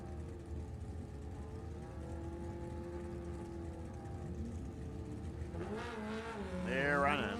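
Drag race vehicles, including a bike, run down the strip at a drag race, with a steady engine drone that rises into a climbing whine near the end, heard from some distance.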